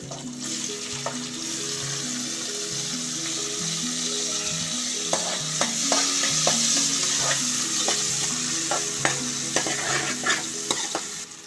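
Onion frying in hot oil in a home kitchen, stirred now and then, with a steady loud sizzle throughout and scattered scraping and clinking of a spoon against the pan, no voices.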